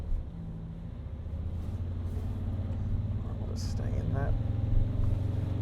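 A Toyota Tundra engine accelerates with a low, steady rumble that gradually builds as the truck climbs out of a hole off-road, while someone talks briefly over it.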